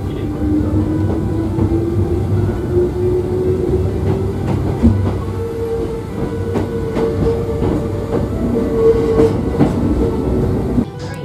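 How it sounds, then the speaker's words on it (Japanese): A Hakone Tozan Railway train rumbles steadily with clickety-clack rail noise and a rising motor whine as it climbs a very steep gradient after a passing loop, heard from on board. "そして出山信号所を出発すると、また急勾配を登っていくんですね"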